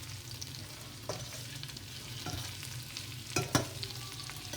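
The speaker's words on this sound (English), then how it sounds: "You guys are now gonna add garlic, and you're gonna keep on mixing it for half a minute." Garlic frying in oil for okra soup while a spoon keeps it moving: steady soft sizzle with scattered scrapes and a couple of sharper clinks against the pan, close and fairly quiet, no talk.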